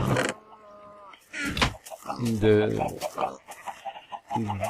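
Chickens clucking in Minecraft, a string of close, squawky clucks and short calls repeating in bursts, moderately loud, with a voice talking between them.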